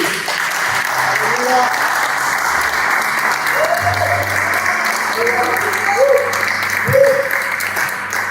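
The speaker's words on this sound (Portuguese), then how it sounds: "Você pode aplaudir o Senhor Jesus" Congregation applauding during a church service, a steady wash of clapping running throughout, with a few voices and tonal sounds rising faintly underneath.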